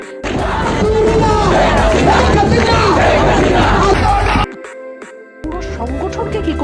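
A crowd of Chhatra League protesters at a rally at Dhaka University chants and roars loudly in unison, a dense wall of voices that cuts off abruptly and then resumes after a short break.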